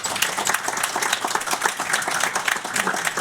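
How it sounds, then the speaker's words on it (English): Dense audience applause at a conference talk on open source, continuous and even clapping from a sizable crowd, no speech over it. "please give a big round of applause for Pauline"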